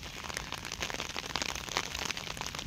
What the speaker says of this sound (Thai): ฝนถล่มหนักสิครับ